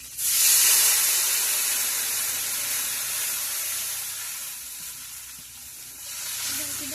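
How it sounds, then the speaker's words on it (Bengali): Water poured into a hot pan of spiced oil for a fish curry bursts into a loud steamy hiss and sizzle, then settles into a steady softer bubbling fizz that swells slightly again near the end. "এই জল দিয়ে দিচ্ছে।"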